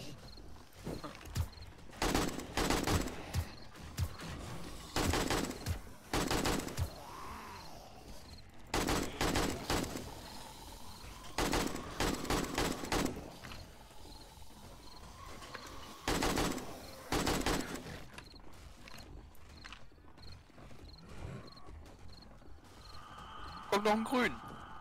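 A submachine gun in the survival game 7 Days to Die fires in repeated rapid bursts, several clusters of sharp shots separated by short pauses, with quieter game ambience in between.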